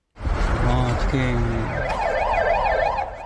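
An ambulance and police car siren starts up and wails close by at a road crash scene, its pitch sweeping up and down over a rumbling vehicle engine.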